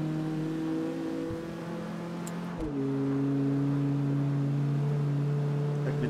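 A tuned front-wheel-drive car in the CarX Street racing game, its engine holding a steady loud drone that briefly dips and shifts pitch as it changes gear, then settles into a higher sustained tone.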